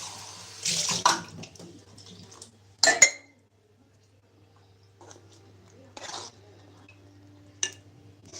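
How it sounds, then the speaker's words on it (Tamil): Water is poured into a henna mixture and stirred by hand, giving brief splashing and trickling bursts with faint clinks, separated by quiet gaps. "பண்ணணும்னா கொஞ்சம் தண்ணி ஊற்றணும்"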